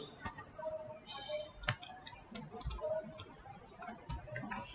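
Light clicks and taps of keys on a computer keyboard as a short command is typed and entered, quiet and irregular, a few sharper keystrokes standing out.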